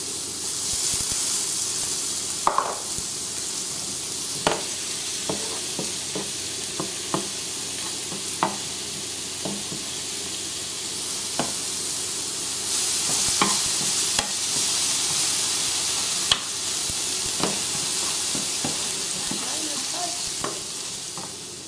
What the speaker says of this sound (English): I'm gonna add a sliced color pepper, red, yellow, orange.